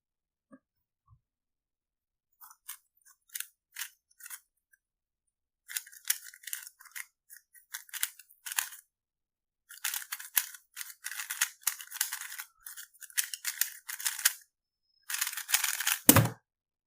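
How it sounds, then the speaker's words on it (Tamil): A MoYu Super RS3M magnetic Rubik's cube is turned fast during a speed solve, bursts of crisp clicking and clattering plastic in quick flurries separated by short pauses, close up, with a thump at the end. "இந்த கியூப்ல வழக்கம் போல் ஒரு சால்வ் பண்ணி பார்ப்போம்."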